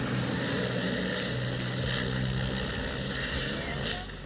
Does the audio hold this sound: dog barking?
no